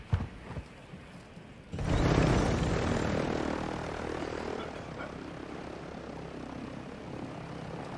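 A helicopter in the Warzone video game drones steadily as a loud, broad engine and rotor roar swells in after a short quieter stretch, then holds for several seconds, with no talk over it.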